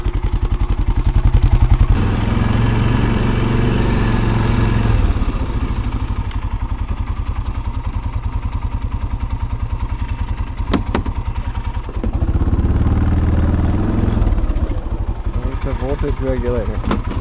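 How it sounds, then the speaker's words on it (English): A 700 working hard at high RPM in low range while pulling logs drones loudly and steadily throughout, with a clattery mechanical edge and slight shifts in load. "that engine seems to be working just a little bit more"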